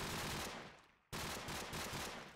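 Rapid automatic gunfire in the shooter game Crossfire rattles in a dense, continuous burst, cuts out for an instant, then resumes just as thick and steady.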